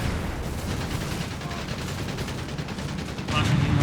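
Artillery bombardment in the real-time strategy game Company of Heroes 3, a continuous rumbling wash of distant explosions and battlefield noise that swells louder near the end, with a commentator talking over it.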